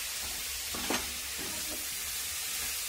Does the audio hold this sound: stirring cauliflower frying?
yes